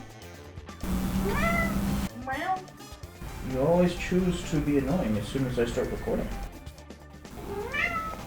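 A cat meows several times in drawn-out, rising and falling cries while a person talks to it between the calls.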